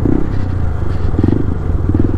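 Low-power motorcycle engine labouring on the climb to Umling La, the high-altitude mountain road at 19,024 ft, a steady close rumble with rhythmic throbbing pulses that runs unbroken throughout.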